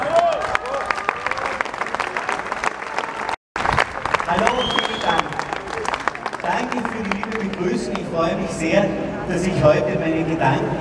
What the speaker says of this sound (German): Begrüßt mit einem positiven Applaus Gernot Haas.